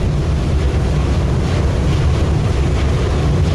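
Constant loud rushing of water and wind against the moving Washington State Ferry Kennewick, a steady low roar with engine rumble and no talking.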